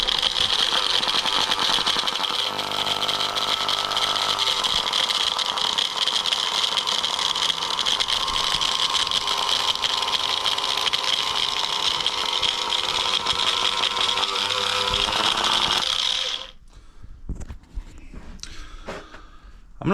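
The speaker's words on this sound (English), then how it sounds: "first we should check to see if the grinder's magically fixed itself" A faulty grinder runs loud and close for about sixteen seconds with a steady whirring motor drone and some rattle, then cuts out, leaving only faint knocks and handling sounds.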